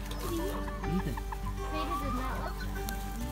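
Several chickens and a rooster cluck and murmur close by on a farm, a busy overlapping stream of short calls against a low background hum, with a person's voice briefly mixed in.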